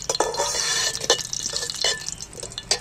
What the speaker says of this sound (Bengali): জিরেটা আমি একটু ভেজে নিচ্ছি তেলের মধ্যে